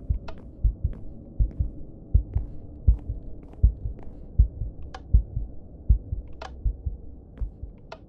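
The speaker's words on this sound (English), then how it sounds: "Oh, I hear heart pounding." Rhythmic heart pounding in the Minecraft horror map Grief, steady paired thumps over a low hum, with faint high ticks scattered above; no voices.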